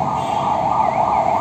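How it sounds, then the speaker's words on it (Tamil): An ambulance siren wails on a nearby highway, a loud continuous rising and falling tone over low road rumble, heard alone without voices. "இந்த ஹைவேன்றதுனால பார்த்தீங்கன்னா அந்த ஆம்புலன்ஸ் அடிக்கடி போயிட்டே இருக்கும்."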